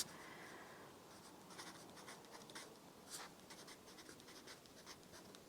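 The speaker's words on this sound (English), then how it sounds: "let's write the date in pencil" A pencil scratches steadily across paper as the date is written out, close and quiet, with short strokes and pauses in a calm room.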